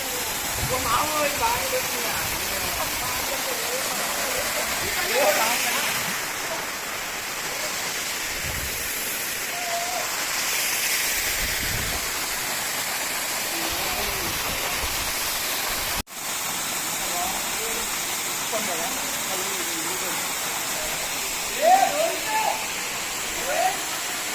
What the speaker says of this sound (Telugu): ఇప్పటిదాకా మనం వాటర్ ఫాల్స్ కింద ఉన్నాం కదా